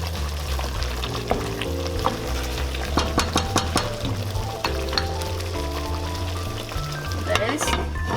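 Seasoned butter being stirred into lamb and potato alicha in a pan, with sizzling, clinking scrapes and low bubbling, while someone talks over much of it.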